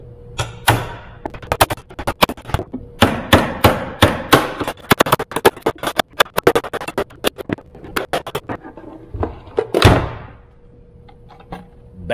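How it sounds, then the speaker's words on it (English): Sharp, repeated hammer blows on a wooden-handled chisel cutting sheet metal, a rapid irregular series of loud close knocks, then a brief burst of louder scraping near the end. "I just put it here and whack it with a hammer"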